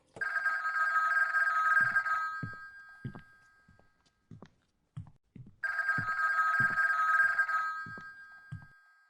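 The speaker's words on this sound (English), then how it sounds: "her phone rings" A telephone bell rings in two long bursts separated by a pause, bright and insistent, with soft knocks and thumps of household movement scattered in between.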